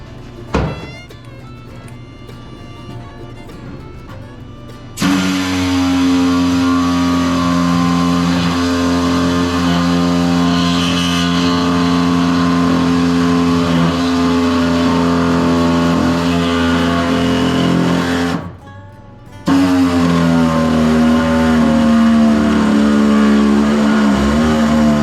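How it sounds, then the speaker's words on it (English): An Ingersoll Rand air saw cutting car body metal on a '55 Chevy, a loud sustained buzzing whine for long stretches after a quieter start, briefly pausing near the end before resuming. "Now we'll break out the new Ingersoll Rand air saw. See how that does trying to make these corners."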